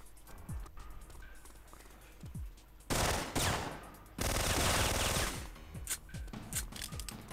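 Gunfire in the video game Syphon Filter, bursts of automatic fire with two long dense volleys in the middle, surrounded by scattered single shots and mechanical clatter.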